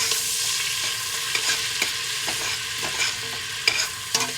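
Food for a New England clam chowder cooks down in a pot with a bright, continuous sizzle, punctuated by a few sharp spoon clicks and scrapes against the pot as it is stirred, close up and without voices.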